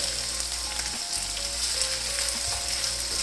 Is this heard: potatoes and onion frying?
yes